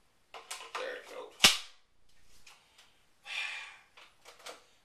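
A single sharp pistol shot rings out near the middle, a loud transient standing out between stretches of quieter movement and breathy noise, with no talk.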